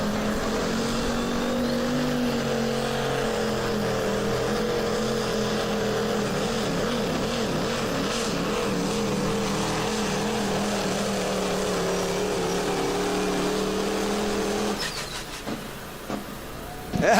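A Duramax diesel pulling truck steadily winding up its engine at a truck pull event, a loud sustained drone with wavering, slowly rising pitch before cutting off sharply near the end.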